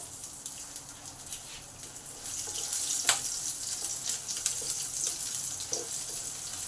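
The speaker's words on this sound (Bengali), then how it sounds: "রসুনগুলোকে ভালো করে আগে ভেজে নেবো লাল লাল করে।" Chopped garlic fries in hot oil in a pan with a continuous near hiss and crackle, flecked with small pops and one sharper spit midway, heard alone.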